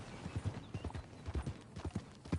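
Horse hooves clip-clop at a steady walking rhythm while riding in Red Dead Redemption 2, soft and fairly quiet, with no voices over the hoofbeats.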